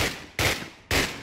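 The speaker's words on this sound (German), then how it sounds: "sind die Schüsse laut" Loud video game gunfire in a Let's Battle aerial fight, two heavy bursts of shots with a short gap between, no voices over them.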